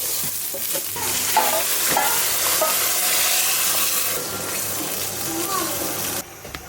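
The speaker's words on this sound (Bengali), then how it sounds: "সামান্য একটু রসুন বাটা আদা বাটা এখন এই যে গরম মশলা দারচিনি সব দিয়ে দিব ভাজা হয়ে গেছে" Garlic paste, ginger paste, cinnamon and garam masala fry in hot oil for plain pulao, a steady loud sizzle with stirring scrapes and clinks running continuously, then cutting off abruptly near the end.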